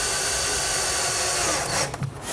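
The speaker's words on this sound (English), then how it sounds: "I pre-drill holes for the screws and simply drive the screws tight." A power drill drives screws through a drawer slide into a wooden cabinet, giving a close, steady whirring grind that cuts off near the end into a few short scraping knocks.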